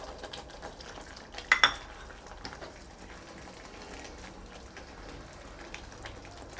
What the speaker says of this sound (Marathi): आता हे जे आपण तळलेले बटाटे होते ते पण घालूया